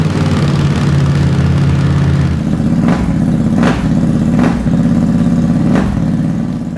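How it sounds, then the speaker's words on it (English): A 2022 Harley-Davidson Nightster engine rumbles close and loud at idle, a deep steady throb with several brief revs or throttle blips punctuating it, and no talking. "gives the bike a little bit more of that rumble that Harley fans have come to like"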